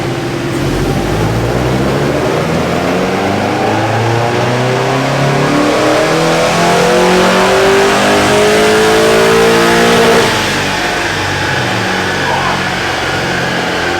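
A low-mileage Mazda MX5 engine with a cobalt intake revs hard on a dyno horsepower test, climbing steadily through the gears for about ten seconds before dropping back to a quieter idle-like drone.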